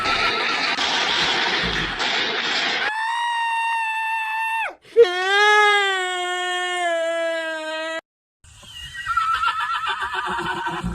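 A horse hitched to a horse-drawn tonga cart lets out a loud, drawn-out whinny that rises and then falls. Rough clattering noise comes before and after it, separated by a brief silent gap.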